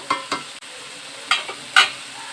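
Meat and spices being sautéed in a pan give off a few short, separate stirring scrapes and light sizzles close by, with a low steady frying hiss underneath and no voices.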